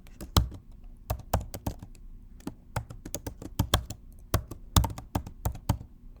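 Brisk typing on a computer keyboard while renaming a folder on a desktop computer, a close, dense run of irregular key clicks and taps with no talking.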